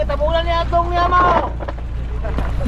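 A fishing boat motor on a banca at sea off Mindanao drones as a steady low hum throughout, with voices and tonal calls over it during the first part.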